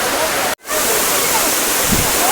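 Aagaya Gangai waterfall at Kolli Hills pouring down fast, a steady dense roar of rushing water that fills the clip, broken only by a brief dropout near the start.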